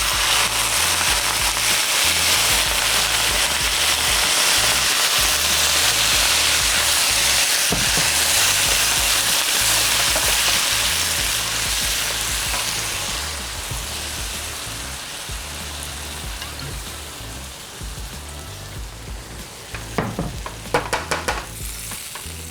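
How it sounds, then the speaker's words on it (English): Wine poured into a hot pan holding pork shank for osso buco, hissing into a loud, dense, steady sizzle that gradually eases to a softer simmer, with a few spoon scrapes near the end and no talking. "Now to this pan, I'm gonna add my wine."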